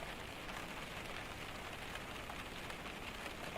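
Soft, steady rain patters on a surface as a quiet ASMR background, an even hiss of droplets with no talking, ending in a brief bump.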